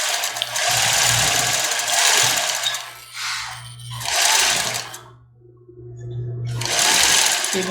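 A sewing machine stitches a label onto a bra, running in loud rapid bursts that stop and restart as it backstitches, with a short quiet gap before the final run.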